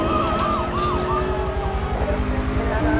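Police sirens wail continuously in the video game Grand Theft Auto III, several overlapping rising and falling tones over a rumbling car engine during a chase, loud and constant.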